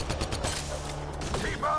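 Rapid gunfire bursts in Mass Effect Andromeda, a quick string of shots at moderate level mixed with mechanical clatter during combat.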